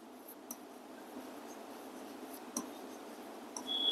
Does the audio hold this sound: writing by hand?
yes